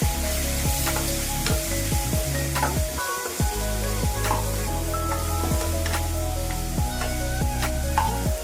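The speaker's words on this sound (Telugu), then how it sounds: "ఒక 2 నిమిషాలు వేగనిద్దాము. ఫ్రై అవుతుంది కదండి." Green chillies and chilli powder frying in a pan for a red dal, fenugreek leaf and tomato curry, giving a steady loud sizzle with scraping stirs and music playing throughout.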